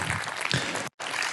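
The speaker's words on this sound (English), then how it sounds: "Can we have a round of applause for Max, please?" Audience applause greets a conference speaker as he is welcomed onto the stage, a dense steady burst of clapping that breaks off briefly and then resumes just as loud.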